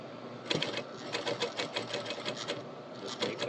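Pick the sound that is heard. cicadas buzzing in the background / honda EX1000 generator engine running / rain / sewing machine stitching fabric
sewing machine stitching fabric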